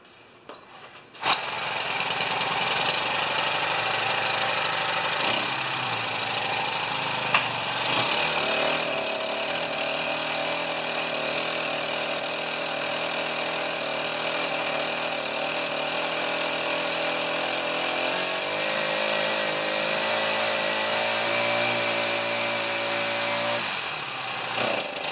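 Craftsman gas string trimmer with a broken trigger starts after a quiet moment and runs loudly and steadily nearby, a high buzzing two-stroke whine that shifts in pitch as it idles and revs.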